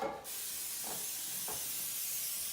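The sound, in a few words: cooking spray sprayed into baking pan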